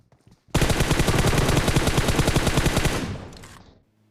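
A long burst of rapid automatic gunfire from an M4 rifle in a PUBG-style battle royale game, loud and evenly spaced for about two and a half seconds before trailing off, with no voices.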